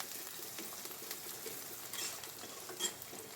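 Okra frying in a pan with plenty of onion and chili, a steady quiet sizzle and hiss running throughout with a few faint stirring clicks, no voices.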